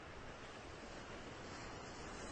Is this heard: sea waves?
yes